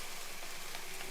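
Kothu chicken parotta with coriander fries in a pan, making a soft, continuous sizzle at low volume throughout the brief moment.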